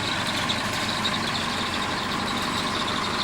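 A truck driven across a front garden to move garden rocks gives a steady, loud engine rumble that fills the whole stretch without a break.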